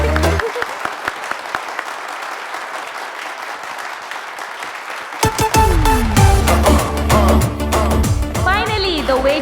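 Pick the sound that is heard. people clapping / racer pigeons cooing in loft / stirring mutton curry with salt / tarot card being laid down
people clapping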